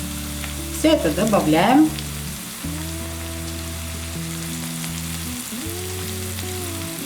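Mint, paprika, salt, hot pepper, black pepper and thyme fry in a pan for a Turkish burek filling, giving a loud continuous sizzle with a burst of stirring near the start. A brief spoken line and background music play over it.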